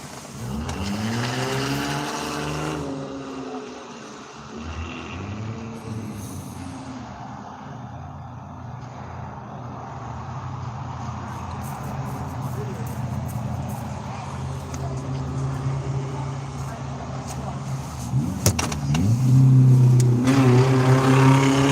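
A car engine revs hard with the gas pedal held to the floor, a sustained roaring drone that climbs louder toward the end, with voices talking over it near the start.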